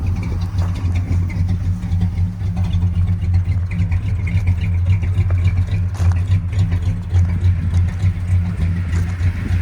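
A 1965 Buick Wildcat 425 dual-quad V8 idles steadily with a deep, even rumble, loud and close, with faint mechanical ticking on top.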